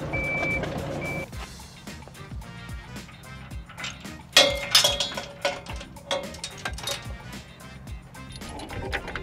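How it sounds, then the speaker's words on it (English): A mini excavator drives up onto a trailer, its steady reversing beeps sounding at first, then loud clanking and knocking as the tracks climb the ramps, close by. "just drive it straight up onto the trailer"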